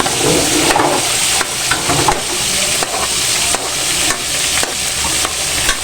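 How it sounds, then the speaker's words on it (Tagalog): Garlic sizzles and hisses steadily in a hot pan for snail adobo, with a spoon scraping and stirring through it in repeated strokes, close and loud, with no talking. "Halo-halo lang po natin"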